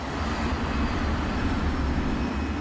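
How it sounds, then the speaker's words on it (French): A KLM jet airliner on the runway at Tenerife turns 180 degrees and lines up for takeoff, its engines giving a steady, loud broadband roar with a low rumble, continuous and without talk. "L'appareil de la KLM effectue sa rotation de 180 degrés et s'aligne pour le décollage."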